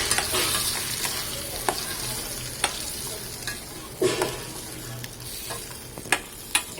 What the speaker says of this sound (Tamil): அரைச்சி எடுத்து அந்த பேஸ்ட்டை நான் அது கூடவே போட்டு நல்லா எண்ணெயிலேயே வதக்கி எடுத்துக்கலாம்